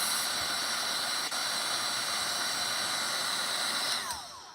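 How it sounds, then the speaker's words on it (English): A heat tool blows with a loud, steady hiss while drying dyed seam binding, running continuously before winding down at the end. "and when you heat dry it"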